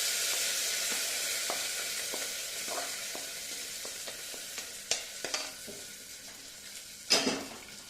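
Roasted coconut is stirred into a frying cowpea and pumpkin curry, with a soft, steady sizzle under scattered scrapes and clinks of a spoon against the pan, and one louder knock near the end.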